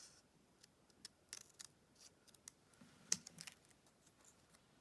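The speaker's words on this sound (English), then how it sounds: "Long bladed scissors definitely help for this." Long-bladed scissors snip through cardstock for a Scandinavian-style Christmas card, a scattered series of small crisp cuts and clicks at irregular intervals, close and quiet with no talking.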